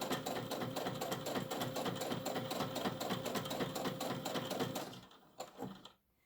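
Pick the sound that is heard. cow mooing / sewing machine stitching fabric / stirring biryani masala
sewing machine stitching fabric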